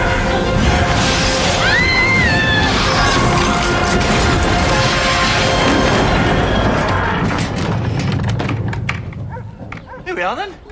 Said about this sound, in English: Christmas Invasion opens with a TARDIS crashing.